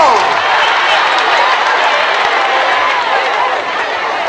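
Church congregation applauding and cheering to acclaim the Lord, a steady loud wash of many hands clapping with voices mixed in, continuous throughout.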